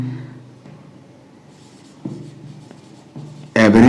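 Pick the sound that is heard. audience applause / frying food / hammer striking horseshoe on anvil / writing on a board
writing on a board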